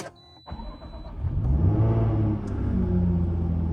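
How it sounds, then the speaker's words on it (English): Supercharged V6 of a Jaguar F-Type V6 S coupe cranks briefly, then catches and settles into a loud, steady, slightly elevated idle rumble close by. "let's start up the supercharged V6"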